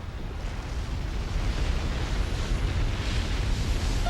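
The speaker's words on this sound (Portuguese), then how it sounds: "O desastre de Thera foi a maior explosão natural que o mundo já viu" Volcanic eruption of Thera rendered as a documentary effect: a continuous, heavy roaring rumble with hissing wind-like noise that swells slightly midway and holds steady, loud and close.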